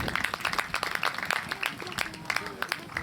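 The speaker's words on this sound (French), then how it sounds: "vous pouvez applaudir les joueurs" Spectators applauding polo players at the Atlantic Cup in La Baule, a sparse, uneven patter of outdoor clapping with individual claps distinct, moderate in volume and fairly close, with faint voices in the background.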